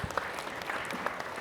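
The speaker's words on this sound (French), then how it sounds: "oui, vous pouvez applaudir si vous voulez" Brief applause from an audience at a French Ministry of Education round table on digital strategy for education: a dense, steady patter of clapping hands, moderately loud, with no talking over it.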